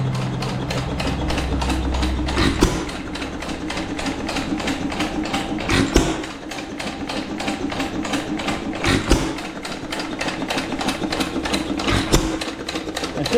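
A 1925 Wizard 1.5 hp gas engine runs steadily for a long stretch, making rapid, even mechanical chuffing and ticking beats with a few louder firing thumps at intervals. It sounds close and loud and plays alone.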